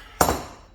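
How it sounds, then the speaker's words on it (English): A single sharp metallic tap from a hammer lightly striking a crud-encrusted part on an Alfa Romeo Brera 3.2 Q4 in a workshop. The tap is close and brief, with a short ringing decay. "you need to give it a little tap here with the hammer"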